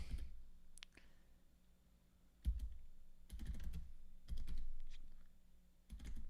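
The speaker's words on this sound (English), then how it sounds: "I'll just type it in." Typing on a computer keyboard in bursts of quick clicks separated by short pauses, fairly quiet and close, with no talking.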